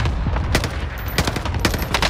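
Rapid video game gunfire, a dense string of sharp loud shots cracking in quick succession throughout with no talking.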